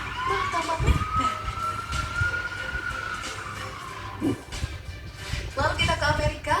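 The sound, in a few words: ambulance siren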